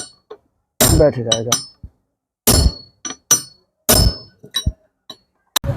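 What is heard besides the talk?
hammering a pin to seat angle grinder gear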